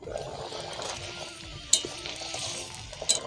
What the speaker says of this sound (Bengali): 2 মিনিট পর এবার একটু খুলে নেড়ে দেব